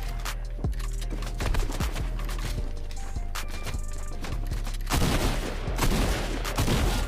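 Rapid gunshots ring out in a first-person video game battle, sharp cracks firing in clusters over a busy, dense mix of game effects, with a louder burst of shots late on.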